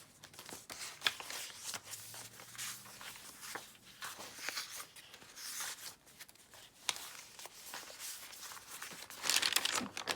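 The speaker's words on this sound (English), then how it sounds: "A large piece of coffee dyed paper." A large sheet of coffee-dyed paper is crinkled and shuffled nearby, with irregular crackles and soft rustles running throughout and a louder flurry near the end.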